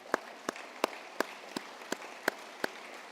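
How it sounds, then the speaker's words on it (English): Applause for competition judges at an event comes across as sparse, faint claps spaced at a regular rhythm, a few distinct hand claps rather than a full crowd roar. "would you just wave your hand so we can give you a round of applause"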